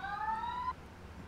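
Police car siren in the video game H1Z1: a short, clear rising electronic wail lasting under a second that cuts off abruptly, leaving quiet background hum, with no talking.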